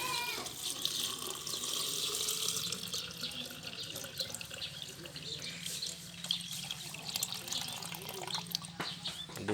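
Water poured into a planting hole for a sweet leaf vegetable seedling gushes and splashes steadily in a continuous close stream, with someone talking faintly over it.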